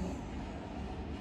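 Inside a moving train in Tokyo, a steady, low rumble of wheels and carriage noise fills the space continuously, with no voices heard.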